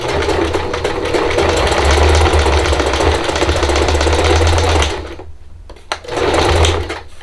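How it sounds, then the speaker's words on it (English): A sewing machine stitches across a coiled cotton rope bowl from Dollar Tree, its fast steady mechanical whir running loud and close for about five seconds, then stopping briefly and restarting in a short burst. "I'm going to move over just a hair, and I'm going to stitch across it."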